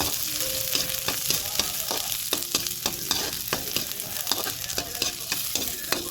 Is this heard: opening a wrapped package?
no